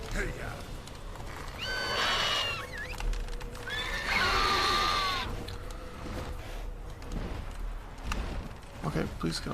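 A horse in a video game whinnies twice in quick succession, high rising and falling neighs over soft hoof clip-clops and game ambience, with a person talking over it.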